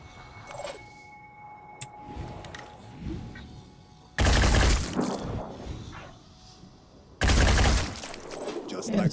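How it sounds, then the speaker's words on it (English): Two loud bursts of rapid gunfire from the Terror from the Void mod, each lasting about three seconds, separated by quieter game ambience with someone talking over it. "We're gonna shoot at this thing instead."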